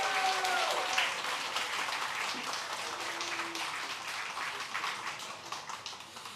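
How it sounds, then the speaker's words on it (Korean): A church congregation at a Sunday service applauds to welcome a performer. A few words are spoken at the start, then the clapping runs as an even, moderately distant patter throughout. "큰 박수를 한번 하시죠."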